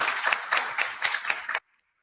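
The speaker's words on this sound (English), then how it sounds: "Give her a huge round of applause." A group applauds at a holiday and awards program honoring 20-year members, with dense overlapping claps that swell in waves and then cut off abruptly into silence.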